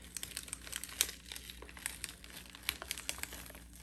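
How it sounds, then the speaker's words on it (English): An Infusible Ink transfer sheet is slowly peeled back from a hat after pressing, giving a quiet, close run of crinkling and light tearing crackles for several seconds. "we're gonna go ahead and peel off this section and slowly peel it back."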